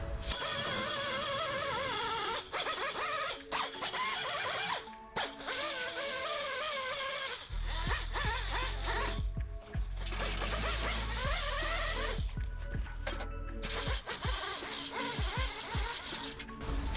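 An angle grinder fitted with an 80 grit disc grinds down spot welds on a 1949 Jeep Willys pickup passenger-side cab, a loud, harsh, sustained whine broken by brief pauses and pressure changes.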